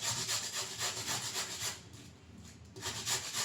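A potato is grated by hand in a home kitchen, with a rapid, rhythmic rasping of strokes that pauses briefly and then resumes, close and fairly quiet.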